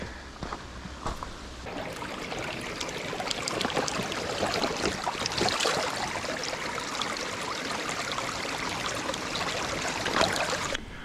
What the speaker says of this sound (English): Hear that sound? The sound of falling water.